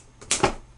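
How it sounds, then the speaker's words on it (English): Packing tape pulled off the roll and pressed down over a small box of button quail eggs, a short ripping screech followed by a brief rub, close and fairly loud in a quiet room. "So I'll go ahead and put tape right over it."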